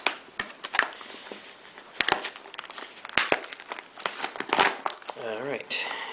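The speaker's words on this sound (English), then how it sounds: "peel this peelable seal" A sealed MRE pouch from Menu No. 6, Chicken with Noodles, is peeled open with bursts of close crinkling and tearing plastic, while a voice talks over the rustling.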